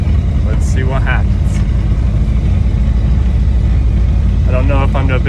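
A Ford Mustang Foxbody on its first drive runs with a loud, constant engine and road rumble heard from inside the car, while someone talks briefly over it near the start and again near the end.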